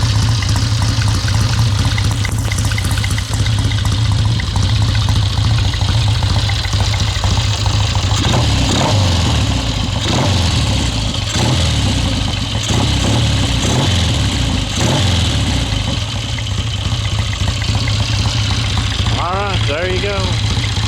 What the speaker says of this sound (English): Here's the old Tiger running.